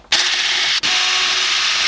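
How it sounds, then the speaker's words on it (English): Screws are removed from a Zipper HB204 planer thicknesser with a loud, close, continuous whirring grind that stops for a split second, then resumes. "let's unscrew these"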